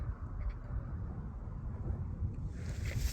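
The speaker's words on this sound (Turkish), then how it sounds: "Rüzgarlı bir yer zaten." Wind buffets the microphone in a forest with a continuous low rumble and gusty roar, fairly close and steady throughout.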